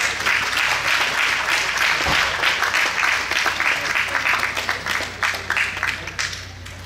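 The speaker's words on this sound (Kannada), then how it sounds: "ಚಪ್ಪಾಳೆ ಬರಲಿ ಎಲ್ಲರೂ." Audience clapping for a cricket trophy presentation at a Kaveri Ganesha festival event: dense continuous applause that thins slightly toward the end, with voices faintly underneath.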